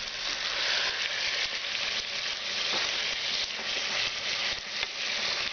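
Chicken pulao frying in a pan over a medium flame, stirred slowly: a steady, close, dense sizzle with soft scraping from the stirring, and no voices.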